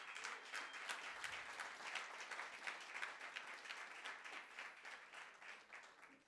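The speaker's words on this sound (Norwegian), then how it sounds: "Gi han en applaus." Audience applause for a performer at a Norwegian music label night, a steady wash of many hands clapping at moderate distance, fairly faint and sustained throughout with no talking.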